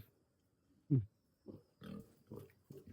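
Pig grunting in a freshly cleaned pen on a small farm with piglets: one sharp loud grunt followed by several softer, lower grunts in an uneven rhythm, close by with no talking.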